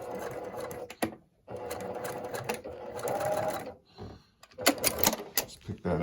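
A sewing machine reverse stitches on a bargello quilt, running in loud close mechanical bursts of rapid clattering broken by short pauses and clunks from handling the fabric.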